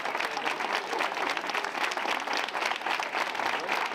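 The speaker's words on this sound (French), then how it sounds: "1 minute de silence suivie d'une salve d'applaudissements" Hospital staff at a CHU giving a sustained round of crowd applause after a minute of silence, dense steady clapping from many hands, moderately distant and unbroken for the whole stretch.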